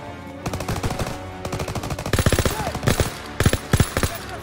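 Rapid World War II gunfire from Call of Duty WWII rattles in several sharp bursts, loud and close, with machine-gun rhythms overlapping; faint shouting voices mix in between volleys.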